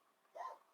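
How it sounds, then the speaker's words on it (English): A single short, muffled dog bark rings out once, faint and somewhat distant against a quiet indoor background. "Sorry about that dog. I've tried to shut him up."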